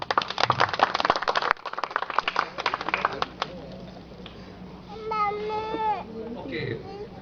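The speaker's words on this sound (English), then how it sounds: "I think he deserves a good applause." A student audience at a college freshers party claps in a burst of rapid, close applause for a few seconds, which then gives way to scattered whoops and voice-like calls from the crowd.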